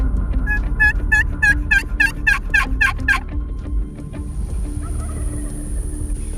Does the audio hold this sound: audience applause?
no